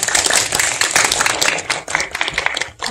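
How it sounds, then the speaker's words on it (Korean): A cinema audience at a special film screening and guest talk claps as the actors walk in, a brisk, loud, uneven patter of close hand claps throughout. "박수 부탁드릴게요."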